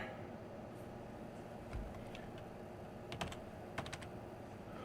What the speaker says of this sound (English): clicking the wrong keyboard